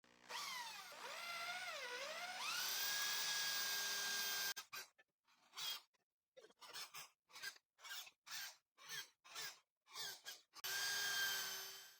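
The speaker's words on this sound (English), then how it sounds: "I'll drill using a hand drill and a 3 millimeter drill bit" A hand drill with a 3 millimeter bit whines into wood, its pitch dipping as it bites, then a run of short rhythmic grinding strokes before the steady whir returns.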